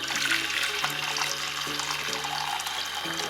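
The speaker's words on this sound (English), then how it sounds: "let's begin by adding in 6 cups of hot water." Hot water pours steadily into a pot for orange and lemon tea, a continuous close splashing stream with a faint rising resonance as the pot fills.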